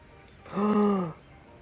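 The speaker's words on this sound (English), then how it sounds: "You guys want to see the smartest cat in the world?" A cat gives a single drawn-out meow, close and clear, lasting about half a second and falling slightly in pitch at the end.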